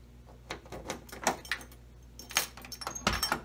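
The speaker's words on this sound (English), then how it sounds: "Door opens." Metal clicks and key jingles from a 1965 Ford Mustang door lock as a key turns, followed by sharper clunks and rattles of the door latch releasing and the door opening, close and fairly quiet.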